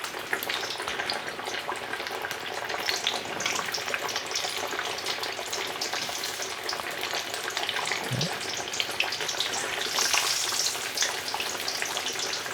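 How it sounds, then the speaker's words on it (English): Chicken pieces deep frying in hot oil for orange chicken, a dense, continuous bubbling sizzle that holds steady and loud throughout with no talk. "And we're going to fry them until they're nice and golden brown."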